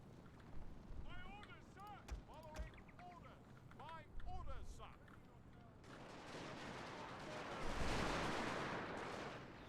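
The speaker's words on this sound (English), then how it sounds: "these guys are easy to pick off with gunfire." Gunfire erupts in the video game Total War Shogun II, a dense, sustained crackling roar that builds and swells after a stretch of voices talking.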